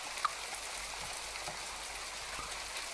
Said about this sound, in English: I think it's nice to have the rain.